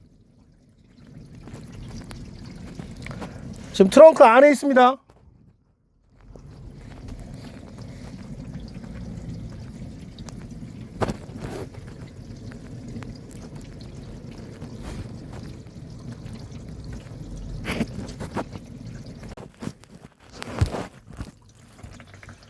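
Water sprayed over the trunk of a Chevrolet Impala during a leak test, heard from inside the trunk as a steady, muffled rushing hiss that runs almost the whole time, with a brief voice and a few knocks partway through.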